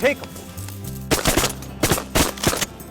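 Shotgun blasts fire at ducks during an Arkansas duck hunt, with several loud, close shots in quick succession over a noisy field background where voices are heard.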